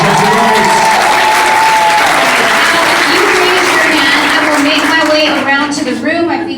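Steady audience applause fills a room at a candidate forum for the 317th District Court, continuous and loud throughout, with voices and cheers mixed in before it thins near the end.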